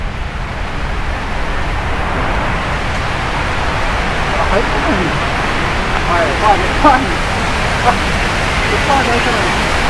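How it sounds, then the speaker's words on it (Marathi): The Kelvali waterfall roars loudly and continuously as a dense wash of rushing water, with faint voices surfacing briefly in the middle of the sound. "बाकी सगळा आवाज बॅकला जाईल. धबधब्याचाच हायलाइट होऊन पुढे येईल."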